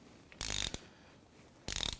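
Two short bursts of rapid ratchet clicks snug down a nut on the drum brake of a 1993-1997 Ford Ranger, close up and crisp against a quiet background.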